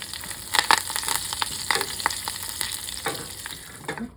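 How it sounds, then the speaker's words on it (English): Fresh parsley and basil spattering in hot oil in a pan: steady close sizzling with frequent sharp pops and crackles throughout, no voices. "Turn that heat down because obviously it's popping everywhere"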